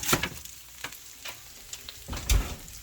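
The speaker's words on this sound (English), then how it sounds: "Just look at that bacon sizzle." Bacon sizzles and crackles in a pan, a soft continuous hiss with sharp pops scattered throughout, close and fairly quiet.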